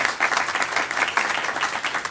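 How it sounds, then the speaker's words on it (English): An audience at an EdTech meetup breaking into steady applause, dense clapping from a modest crowd continuing throughout. "so let's give him a round of applause"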